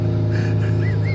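An old bus on a road between Koh Samui and Pattaya, heard from inside as a loud, steady low engine drone with faint rising whine overtones, continuous for the whole moment.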